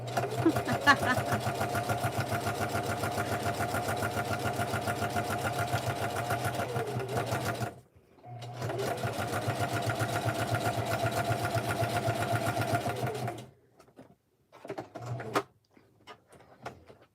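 A sewing machine stitches pages of a junk journal with a steady, fast mechanical whir, running for about eight seconds, pausing briefly, running again, then stopping with a few short clicks and quiet handling.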